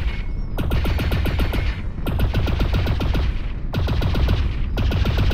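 Ionized bolt weapon firing in Lone Echo 2, rapid bursts of sharp repeated shots in three long strings separated by brief pauses, loud and close.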